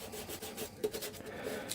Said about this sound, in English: giving a little bit of light sanding, not hard